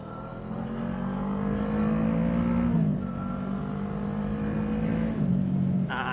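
An FKM Falcon X400 motorcycle engine pulls steadily in first gear up to about 40, a close, continuous droning hum that dips slightly mid-ride before rising again, with no talk.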